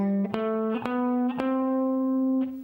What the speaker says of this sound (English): here's the major scale, which I know you all know, and it's in C, and it sounds like this.